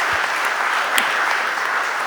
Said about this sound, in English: give both of them a round of applause as well